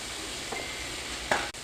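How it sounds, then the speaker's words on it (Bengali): Ginger paste goes into frying chicken curry in a pan, giving a brief close sizzle with a couple of light spoon clinks. "ওই 100 গ্রাম যে আদা রেখেছিলাম সেটা দিলাম।"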